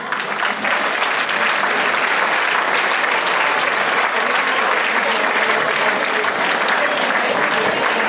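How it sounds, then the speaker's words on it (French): A crowd in a theatre audience applauds loudly for a performer on stage, producing a steady, dense wash of clapping that holds at full strength for the whole stretch with no letup. "Alors on va l'applaudir bien fort."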